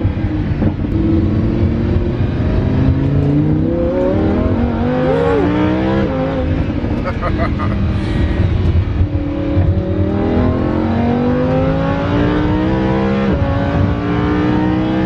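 A Hennessey-modified car engine revs hard during baseline testing, a loud, sustained roar whose pitch climbs and falls across repeated throttle pushes, heard up close with no voices.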